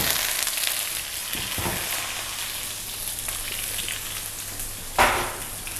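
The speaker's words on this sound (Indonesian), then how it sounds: "Nah, kentangnya ini kita saute dikit." Potatoes sauté in a pan of butter and vegetable oil, giving an even, continuous sizzle with a couple of soft stirring scrapes and a brief louder clatter near the end.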